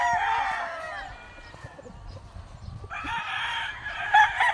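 Gray gamefowl roosters on a game farm crow loudly nearby, one long crow at the start and another from about three seconds in, with fainter clucking and farm noise between.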